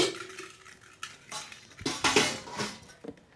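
Steel plates and spoons clatter together in a short, close burst of metallic clinks and scraping rattles, uneven and loud, with no voices.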